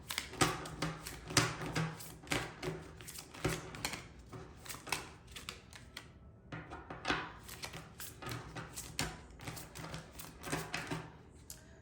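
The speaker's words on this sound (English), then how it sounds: "I could just literally listen to the sound of shuffling" Tarot cards are shuffled by hand up close, giving a quiet run of rapid papery flutters and snaps in repeated bursts with brief pauses between them, and no talking.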